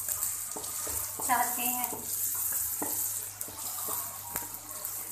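Ginger garlic paste sizzles in hot oil in a home kitchen pan, a steady hiss with light stirring clinks, while someone speaks briefly over it.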